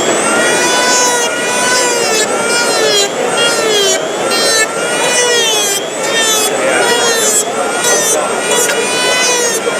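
A power tool bevels the edge of a torn plastic car bumper during a repair demonstration at a trade show, a loud, steady high whine with a rubbing grind that runs continuously and close up.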